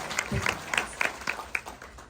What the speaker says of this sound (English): a big round of applause for those guys and gals that felt like they were forgotten about that